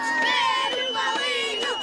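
Young spectators cheer and clap for cyclists of the Mortágua team finishing a youth stage race in Portugal, a steady crowd roar with excited high voices rising and falling throughout.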